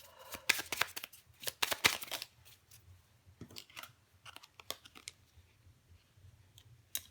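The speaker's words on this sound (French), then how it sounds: "Je vais encore prendre quelques cartes pour vous" Tarot cards being handled, shuffled and drawn, giving a run of quick papery flicks and snaps, dense at first, then sparser, softer handling close by with no talk.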